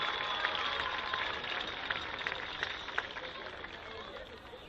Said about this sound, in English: give all of these outstanding senior candidates and class representatives one more round of applause for all their hard work and dedication